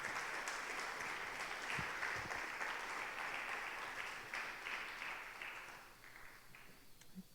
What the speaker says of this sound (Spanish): ¿Cuánto le dan un fuerte aplauso a nuestro Dios en esta noche por su palabra?